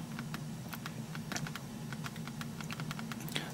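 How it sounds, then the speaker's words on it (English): Rapid, light tapping on a BlackBerry Storm2 phone's touchscreen keyboard, steady and soft, with a low hum underneath and no talking. "I'm going to just quickly type up another one"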